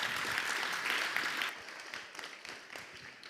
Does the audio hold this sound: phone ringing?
no